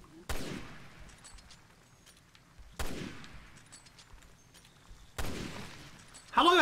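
Three loud, booming sniper rifle shots in the video game Resident Evil: Revelations 2, spaced a few seconds apart, each with a long reverberant tail, against a quiet in-game background.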